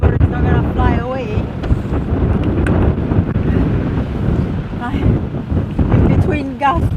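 Strong storm wind buffets and roars through the microphone in steady gusts, with a voice talking intermittently underneath.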